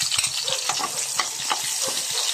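Garlic sizzles in a hot pan with a steady, close crackle and hiss, while a utensil stirs and scrapes in quick, irregular taps.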